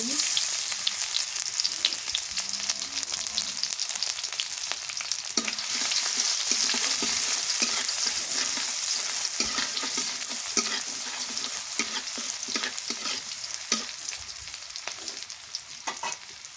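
Chopped onion frying in oil at the start of a hilsa fish curry, giving a continuous bright sizzle with frequent soft stirring scrapes and taps underneath, heard close and alone.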